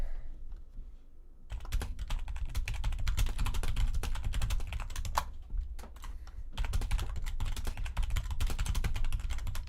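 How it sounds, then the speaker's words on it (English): A computer keyboard typed right against the mic gives a rapid, loud, continuous clatter of keystrokes after a brief quiet opening, with a short pause midway. "I'm typing really close to the mic."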